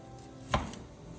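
A single sharp knife chop through broccoli, cauliflower and kale on a cutting board, close and crisp, with a brief thud in an otherwise quiet kitchen.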